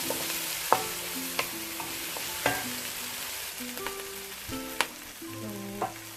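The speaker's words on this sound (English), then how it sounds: "We're gonna cook our onion a little bit so they get a little bit caramelized." Onions sizzle and slowly caramelize in a pan, a steady soft frying hiss broken by occasional light clicks and scrapes of stirring, close and fairly quiet with no speech.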